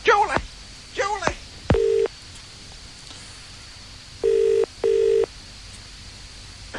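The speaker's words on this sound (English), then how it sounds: "right now, Ken, I have an important phone call to make" A telephone is dialed with touch-tone keys: three steady, clipped electronic beeps, one alone and then a close pair, following a few brief vocal sounds at the start, with a quiet room hum underneath.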